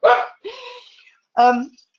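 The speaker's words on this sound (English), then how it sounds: "I do apologize for this in the back now, but I can't stop the dog." A dog barks three short times in the background, fairly close and clear, with brief silences between the barks and no talk over them.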